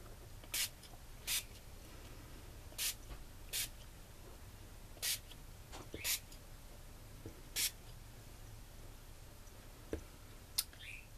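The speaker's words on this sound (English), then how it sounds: "I'm not very experienced with the uh, Dylusions sprays." Dylusions ink spray misted during a paper craft project, about ten short sharp spray bursts at irregular intervals, close and distinct above a quiet background with no talk.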